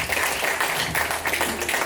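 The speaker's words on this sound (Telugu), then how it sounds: "ఈరోజు యాంకరింగ్ చేసిన జయ గారికి కొంచెం గట్టిగా క్లాప్స్." An audience at a dance school's annual day celebration claps loudly and continuously in a dense, even wash of applause throughout.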